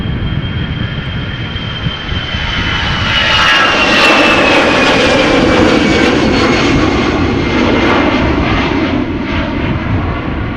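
A jet airplane departing Amsterdam Schiphol Airport roars loudly outdoors, a broad steady engine rumble and whine that swells toward the middle and stays close and powerful throughout.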